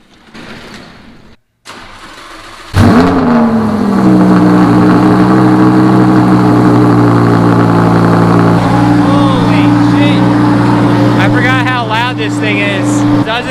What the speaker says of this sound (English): Let me set you guys up, get you a good cold start.